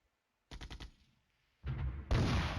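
Artillery fire in the wargame Flashpoint Campaigns Germany Reforged: a quick rattling burst of four shots, a pause, then a heavier sustained rumble of explosions building louder toward the end.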